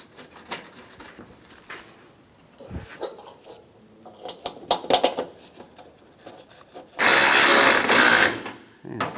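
A power tool runs in one loud, steady burst of about a second, snugging headlight bolts on a 1997-2001 Honda CR-V, after scattered clicks and handling noises of bolts and parts being positioned.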